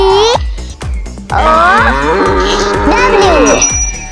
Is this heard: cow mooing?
yes